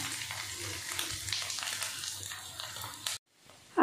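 Fish frying in a wok gives a steady, close sizzle with soft stirring, broken by a brief silence near the end, with no speech.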